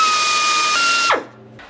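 Cordless power drill boring holes in a car glove box mounting plate, a loud, steady high whine that winds down abruptly at the end, heard alone.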